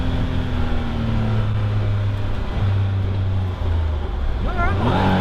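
Small 660cc turbocharged Caterham 7 engine droning steadily at speed from inside the cockpit, pitch shifting slightly as it settles into a lower note, with brief voice sounds near the end.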